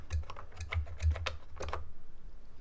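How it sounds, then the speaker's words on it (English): Keys clack on the keyboard of an Elan Enterprise 128 home computer, a quick close burst of about a dozen taps over roughly two seconds, followed by a quiet pause. "If I now type DTM, if I type :DTM,"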